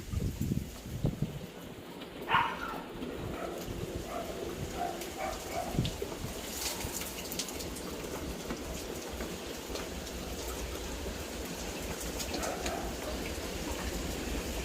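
Wind-driven rain patters steadily on a terrace during a monsoon downpour, with faint gusts and a brief distant thump early on, no talking.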